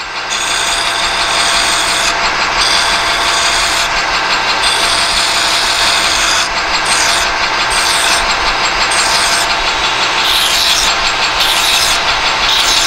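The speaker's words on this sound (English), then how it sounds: "Till I get it filed off." Steady hand filing on a steel shaft to clear rust, a continuous rasping scrape with repeated strokes and short pauses between passes, loud and close throughout.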